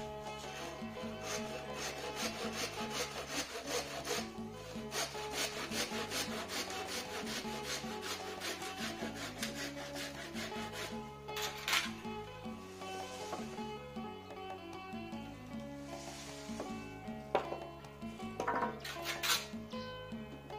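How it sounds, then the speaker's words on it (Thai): A hand saw rasps steadily through wood in repeated back-and-forth strokes, close and loud, with no talking. "ก็ใช้เลื่อยตัดเลยนะครับ"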